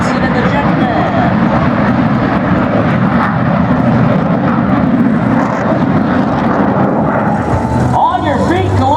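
A Vans jet aircraft flown by Paul Johnson roars past at an air force base airshow, trailing smoke, a loud continuous engine wash that holds steady and then shifts near the end as it passes.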